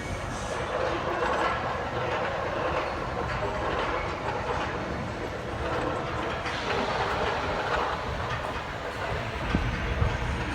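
Corkscrew roller coaster train running at the Valleyfair amusement park, a continuous loud rumble with rattling clatter that holds steady throughout.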